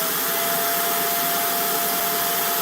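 Vacuum cleaner running steadily, a loud, constant broadband whoosh with a thin whine on top, nothing else heard.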